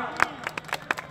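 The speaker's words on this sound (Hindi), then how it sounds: "जोरदार तालियां" Sparse, uneven hand claps from an audience at a jawabi kirtan singing contest, a handful of sharp claps close by over a low murmur of voices.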